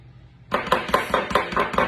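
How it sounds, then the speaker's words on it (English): Hummus is scooped out of a food processor into a serving bowl, a run of close, fairly loud knocks and scrapes of a utensil against the bowl in a steady rhythm, about six strikes in quick succession. "I'm going to take my food processor and I'm going to put this into a bowl"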